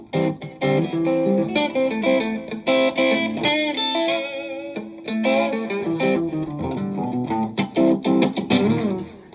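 Electric guitar played through a digitally controlled analog effects pedal, chords and melodic lines with a warm, slightly modulated tone, steady and fairly loud.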